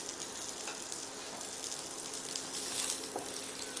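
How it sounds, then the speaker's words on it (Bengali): Two medium onions, thinly sliced, sizzle steadily in hot oil for a red chicken curry, a soft continuous crackle with no voices. "পেঁয়াজটা এবার আমি তেলে ভাজবো।"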